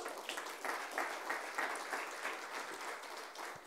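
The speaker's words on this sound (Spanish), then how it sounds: "Le damos un aplauso al Señor" Sustained applause from a church congregation at a Christmas service, a dense even wash of many clapping hands heard from some distance at moderate volume, with no speech over it.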